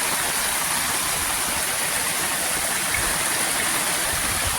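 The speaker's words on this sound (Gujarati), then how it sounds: "હજી રોડ ઉપર ઘણું જતું છે પાણી" Floodwater rushes across a farm field and over a road after heavy rain, a loud, steady, broadband roar that continues unbroken, with no voices.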